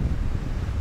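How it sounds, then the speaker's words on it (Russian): Strong, gusting wind ahead of an approaching rainstorm roars steadily and low, buffeting the microphone close up, with no voices. "Там целый ураган надвигается на нас. Ну да, нижние потоки ветра идут в сторону дождя"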